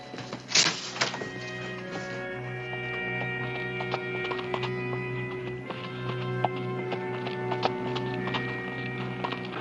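A horse's hooves clip-clop at a steady walking pace, close and clear over a low humming background, with one sharp louder knock near the start.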